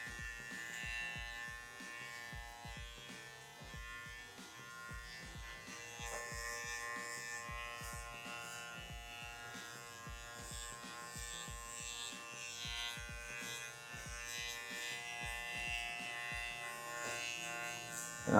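Electric hair clippers buzz steadily through a taper haircut, a continuous close whine with frequent short bursts and pauses as the blades pass over the head, with no talking.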